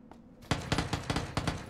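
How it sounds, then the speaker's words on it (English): Uzi submachine gun firing in PUBG: after a faint lead-in, a series of sharp, loud shots in quick succession, about six close bursts spaced roughly a fifth of a second apart. "I guess I'm just checking how the Uzi fires, by the way."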